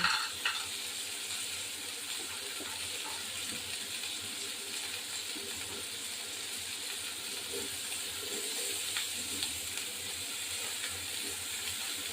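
Steady crackling sizzle of small lentil dumplings frying in hot oil, continuous and fairly quiet, with occasional light clinks and stirring sounds and no talking.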